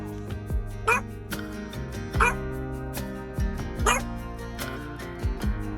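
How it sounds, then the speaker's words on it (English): A Yorkie lying down barks in a run of sharp yips and bow-wows, about five or six close, loud barks spread evenly and heard alone. "She's just laying there and barking."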